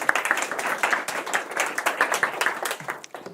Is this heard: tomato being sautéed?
no